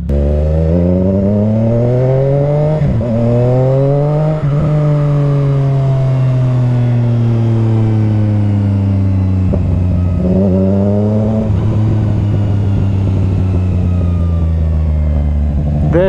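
A Zontes 703RR sport motorcycle engine revving hard and loud, pitch climbing through several rising sweeps with brief drops between as revs build and fall, heard alone without talk.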